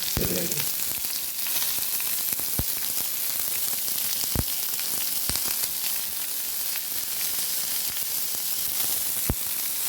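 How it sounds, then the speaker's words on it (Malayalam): Chopped onions fry in a pan for an Indian egg roast, a dense, even sizzle throughout with occasional sharp pops and crackles, close and with no talking. "അരിഞ്ഞു വെച്ച ഒരു 2 വലിയ ഉള്ളി, സവാള ഉള്ളി ചെറുതായിട്ട് അരിഞ്ഞത് അതിലേക്ക് ഇട്ട് കൊടുക്കുന്നു"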